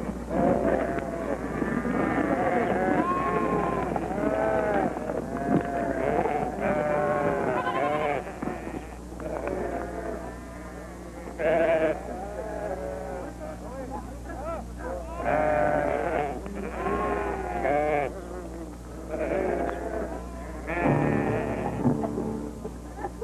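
Sheep bleat repeatedly, their wavering calls layered over a continuous low rumble and steady background noise, some cries louder and nearer than others.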